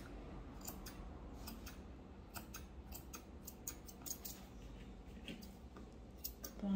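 Scissors trimming a Shih Tzu's fur during grooming, a steady run of quick, soft snipping clicks close by over quiet background, with no talking.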